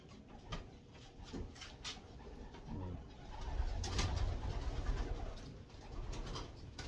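Racing pigeons coo steadily in a breeding station loft, soft throaty calls repeating through the clip with some rustling and movement, and no talk over them.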